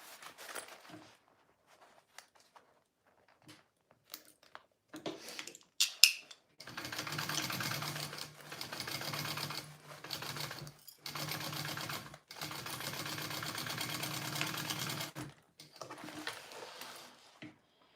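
Sewing machine stitching binding onto a vinyl bowler bag, starting after scattered clicks and handling sounds, then running in four steady bursts with brief stops, fairly soft and close.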